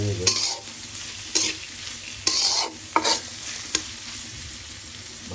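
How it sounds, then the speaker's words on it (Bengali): Onion, garlic, chili, cumin and bay leaf fry together in hot oil for khichuri, a steady sizzle broken by a few sharp spoon-scrapes and stirs against the pan, close and alone with no talk. "বন্ধুরা পেঁয়াজ ভাজি রসুন পেঁয়াজ ও মরিচ জিরা তেজপাতা দিয়ে একসাথে ভাজি করা হচ্ছে"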